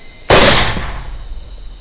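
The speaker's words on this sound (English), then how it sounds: "So finishing shot, still more noise." A single loud, close rifle shot fired as a finishing shot at a downed hog during a hunt, a sharp crack followed by a short decaying roar of echo.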